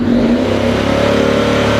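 A 2023 Honda X-ADV 750 scooter fitted with an Akrapovic slip-on exhaust revs loudly and steadily up close, the engine note rising and holding with no voices.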